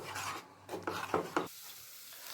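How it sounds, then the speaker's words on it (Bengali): Spices with turmeric, salt and a little sugar stirred and scraped in a pan for hariyali prawn, with a few bursts of rasping spatula strokes over a soft sizzle, then a quieter background. "এবার আমি সব কিছুকে খুব ভালো মতন কষিয়ে নেব।"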